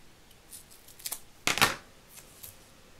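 Scissors cut double-sided tape for card making, a few quiet snips followed by one louder crisp cut, close up in a quiet room.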